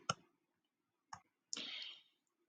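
A computer mouse gives two faint, sharp clicks about a second apart, followed by a brief, soft rustling scrape in a quiet room.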